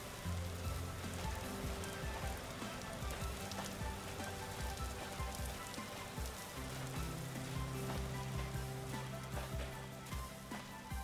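Rain patters and hisses steadily in the Vintage Story video game, a dense crackle of drops on surfaces under a low ambient drone, with no voices over it.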